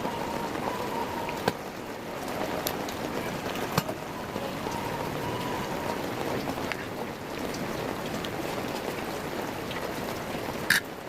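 Steady rain falls for about eleven seconds, a dense even patter on surfaces with a few isolated louder drips or knocks, no voices.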